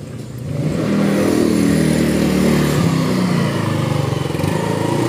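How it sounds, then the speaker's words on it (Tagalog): Omar's motorcycle engine idles, then revs up to a loud, steady, rough drone that stays close and drowns out everything else around a chicken yard. "Ingay naman nung motor ni Omar."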